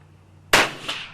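A single sharp shot from a Ruger Precision Rimfire .17 HMR rifle during barrel break-in, a loud close crack with a brief decaying tail and a fainter echo just after, alone without talk.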